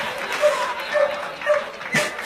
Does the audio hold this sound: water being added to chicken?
no